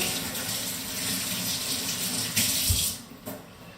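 A kitchen tap runs in a steady, loud gush as hands are washed before cooking on a cooking competition set, ending with a couple of soft knocks as the flow stops.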